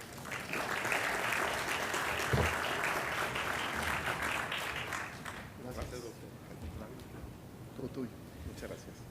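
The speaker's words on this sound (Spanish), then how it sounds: "Le pido al doctor Felipe Aguilar pase al frente para que inicie su charla y un aplauso" Audience applause at an evening lecture session at a school in Monterrey, a dense wash of clapping that swells for about five seconds and then thins to scattered claps under a voice.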